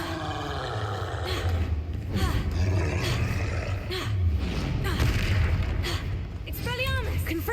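Confringo fire spells burst during a cave battle in Hogwarts Legacy, making rolling booms and roaring blasts that swell and repeat over a dense, continuous wash of combat noise, with voices shouting through it.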